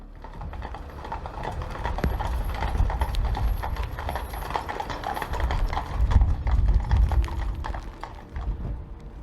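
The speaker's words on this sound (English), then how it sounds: "Her coffin brought in a horse-drawn carriage." Horses pulling a horse-drawn funeral carriage clip-clop steadily on the road, their hoofbeats close and continuous over a low rumble of wheels and street noise.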